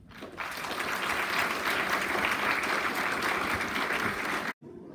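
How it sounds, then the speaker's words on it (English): A school audience at a Grade 7 prize-giving ceremony breaks into a dense, steady round of applause that swells quickly, holds at a moderate level, then cuts off abruptly near the end. "Can you please give them a round of applause?"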